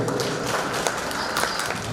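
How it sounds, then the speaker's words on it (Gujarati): Audience applause in a hall, a thick, continuous patter of many hands clapping at moderate loudness for the full two seconds, with no voices on top. "તો એમના માટે પણ જોરદાર તાળીઓ"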